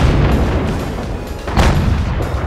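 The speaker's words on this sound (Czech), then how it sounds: "On střílí tam ten Panther." Tank gunfire in the World of Tanks video game, a Panther shooting: heavy booming blasts, one loud shot near the middle and a fainter one later, over a continuous low battle rumble with no talk.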